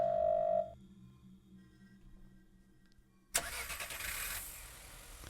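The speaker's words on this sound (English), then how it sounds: "The sound of the car is coming from outside the door." Car engine starting outside the door in a Chinese police horror video game: after a short tone and a quiet stretch, the engine suddenly turns over and settles into a loud, rough running rumble.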